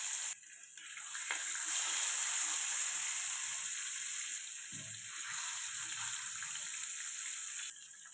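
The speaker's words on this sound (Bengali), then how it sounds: "এবার আমি মাছগুলো দিয়ে ভেজে নেব।" Bhetki fish frying in hot oil, a steady bright sizzle that holds close and fairly loud for several seconds, with a few faint clatters underneath.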